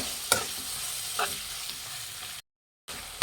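Mutton liver and heart frying with masala in a military hotel style pepper fry, a steady close sizzle with a few scraping stirs and a brief dropout near the end.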